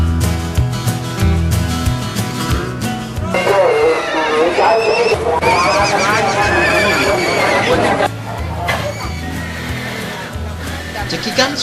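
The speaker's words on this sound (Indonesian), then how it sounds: "Cekikan suara dari ratusan kuda ini menjadi hiburan tersendiri bagi siapa saja yang mengunjungi tempat ini" Several of hundreds of horses at a horse market neigh and whinny loudly over a busy crowd background, with hoof clops and people talking throughout.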